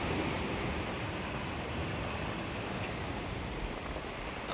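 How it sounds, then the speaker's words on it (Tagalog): Large, strong sea waves surge against moored fishing boats, making a steady, dense wash of roaring surf with no clear breaks, fairly faint and distant, with no voices. "Ayan mga master, sobrang lakas ng alon."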